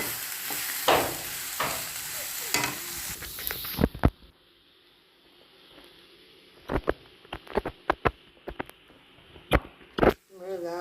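Finely chopped onions for samosa filling fry in a pan, a dense sizzle with spoon scrapes that drops away midway, followed by scattered sharp clinks and knocks of utensils, close and without talk.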